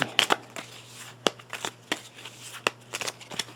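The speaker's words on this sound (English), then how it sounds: "So I'm just shuffling these ones up a bit just to give some more randomness." Board game adventure cards are shuffled by hand at close range, giving soft riffles and a few sharp snaps spread irregularly over a few seconds against a quiet room with a low hum.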